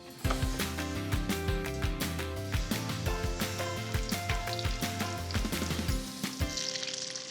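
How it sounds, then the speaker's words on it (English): Chicken cutlets sizzle and crackle in a frying pan, a steady busy hiss beneath a layer of background music. "While these finish up frying, I'll get my mozzarella."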